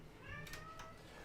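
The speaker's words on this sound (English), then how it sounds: "Oh, my cat is outside." A cat meows outdoors, a brief pair of faint cries heard at a distance over low background hiss.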